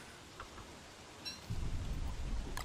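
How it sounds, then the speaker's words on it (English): Steady rain falls in the Don't Starve Together game world, a soft even hiss that grows heavier and denser after the first second and a half, with a faint low rumble underneath. "It's raining."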